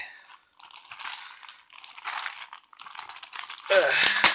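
Plastic wrapping crinkles and crunches around large board game miniatures from a Shadows of Brimstone box, in bursts of rustling close to the microphone, with a brief voice sound near the end.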